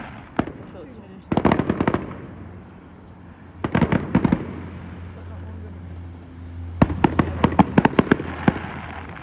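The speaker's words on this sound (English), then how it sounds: "The New Year's Eve fireworks in Sydney." Sydney New Year's Eve fireworks display bursting in rapid clusters of sharp cracks and booms, heard from a distance in several waves, with faint talking underneath.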